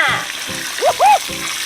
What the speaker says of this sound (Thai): มาลองใส่น้ำกันเลยแล้วก็มาดูกันว่าน้ำมันจะขังไหม